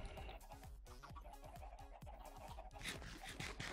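Minecraft chickens cluck over and over in quick, overlapping bursts, loud and close, layered over busy game sounds.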